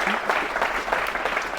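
An audience at a conference applauds continuously, dense clapping filling the short stretch at a close, even level.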